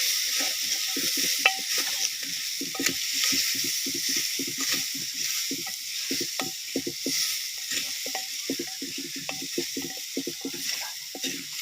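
Okra (bhindi) with masala stirred and frying in a pan, a steady close sizzle broken by frequent scraping strokes of the spoon in an uneven rhythm, with no voices.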